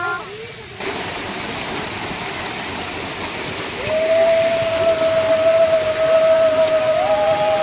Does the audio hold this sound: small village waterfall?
yes